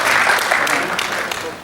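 An audience applauding at a Hindi humour and satire poetry gathering, a brief burst of dense, steady clapping from a crowd that thins slightly as it ends.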